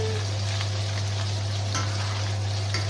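Thick homemade burger meat patty frying in oil, a steady loud sizzle and crackle with a constant low hum, no voices.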